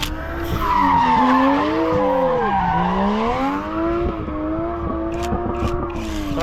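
A car with a turbocharged GZ engine runs with a loud, sustained tonal drone that rises and dips as the revs shift, heard close up with faint background clatter.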